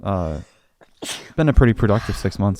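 A single short sneeze-like burst at the start of an indoor conversation, followed by a pause and then continuous talking.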